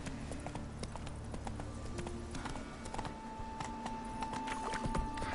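Roach, the horse in The Witcher 3, gallops with steady, rapid clip-clop hoofbeats at close range under game music and ambience, with no talking.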